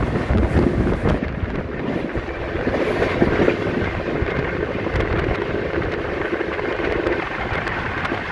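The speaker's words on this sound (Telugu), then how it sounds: "ఈ ట్రైన్ పేరు వచ్చేసరికి కోవాయ్ ఎక్స్ప్రెస్ అండి" Kovai Express passenger train running on the rails, a steady loud rumble with clickety-clack of wheels and wind buffeting throughout, no voices.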